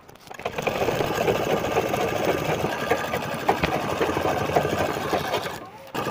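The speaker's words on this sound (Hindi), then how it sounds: "ये चारों राउंड में आपको ये सिलाई चला दे रहा है" A sewing machine runs in one steady burst, stitching the edges of a mat made from a cement sack, its loud motor whir and rapid needle clatter continuous until it stops near the end; a person talks over it.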